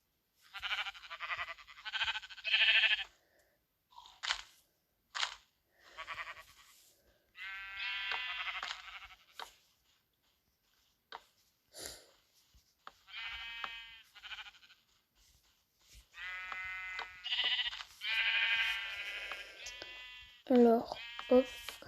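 Sheep bleating in the Minecraft video game, a series of short nasal baas, some from a black sheep, repeating in bursts with pauses between them, clear and close, with game sounds scattered around.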